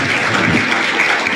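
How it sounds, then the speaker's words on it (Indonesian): A church congregation claps together, dense continuous applause rising loud and close with no voices over it. "Tepuk tangan buat Tuhan Yesus dong."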